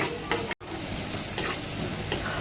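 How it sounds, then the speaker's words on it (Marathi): Malvani masala with coriander powder fries in oil while being stirred, a continuous close, loud sizzle with scraping stir strokes throughout. "चांगलं तेल सुटेपर्यंत फ्राय करून घेऊ।"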